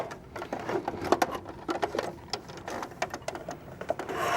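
Cover stitch style sewing machine stitching pleats in fabric, a close mechanical whirring broken into short stop-start bursts and rapid ticking clicks as the fabric is fed through.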